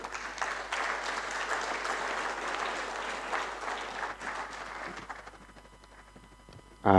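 A crowd claps at the Merck Foundation Africa Asia Luminary 2025 after a talk, a dense, steady burst of applause that carries on for several seconds before thinning out and fading.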